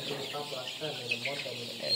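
Sonali chickens clucking softly in a brooder shed during cold weather, a close, continuous murmur of low clucks and chirps under faint talk.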